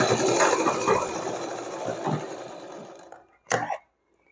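A sewing machine stitches a small winter dress for a Laddu Gopal figure. It runs in a steady, loud, close whir for about three seconds, stops, then gives one short burst, with no talk.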